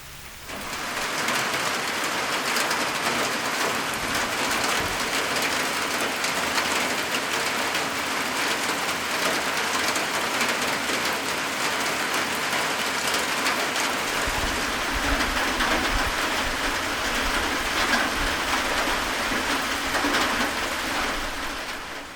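Heavy rain pours steadily and loudly onto a trailhead shelter in Quebec overhead, a dense continuous hiss with no voices, constant throughout.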